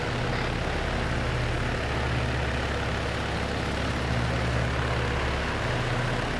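A propeller aircraft engine drones steadily at close range in a video game military operation, a continuous low hum with a faint pulsing tone, alone without talk.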